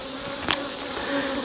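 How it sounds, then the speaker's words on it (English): A honeybee buzzes right against a camera lens during a beehive inspection in hot weather: a close, steady low drone with one brief louder bump midway. "There's a bee on the camera, sorry about that."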